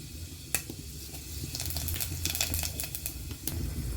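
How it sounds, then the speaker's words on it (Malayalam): Coconut oil hitting a hot pan set over a wood-fired stove, a steady crackling sizzle with a few sharp metallic clicks and scrapes, close and moderately loud with no voices. "അതിലേക്ക് വെളിച്ചെണ്ണ ഒഴിച്ച് കൊടുക്കുക."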